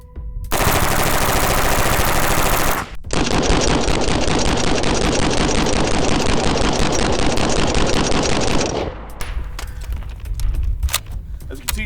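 An MP5 submachine gun in 9mm fires at 7 yards in two long, loud, rapid bursts of automatic fire, the first short and the second lasting several seconds, followed by fading ringing and a few faint clatters.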